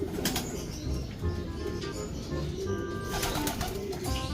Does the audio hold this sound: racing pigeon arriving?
yes